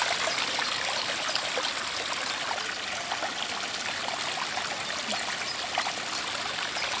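Spring water trickling out of a hole through a tree trunk into a small forest stream near a travertine waterfall, a steady close babble and splash with no voices.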